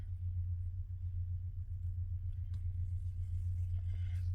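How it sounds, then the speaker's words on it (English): Low, steady rumble of a big truck outside, a continuous deep drone that holds for several seconds with only faint higher noises above it and no voices. "there's a big truck outside"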